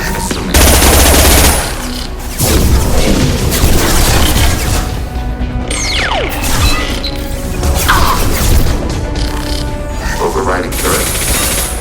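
Turret gunfire in Mass Effect 2, from a hacked turret taken over by heretic geth: loud, dense rapid fire with booming impacts and crashes running almost the whole time, mixed with synthetic mechanical noises.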